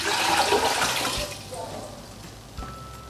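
Water rushes into a cooking pot on a kitchen stove, roughly two litres, as a loud, steady pour that tapers off, followed by a soft clunk near the end.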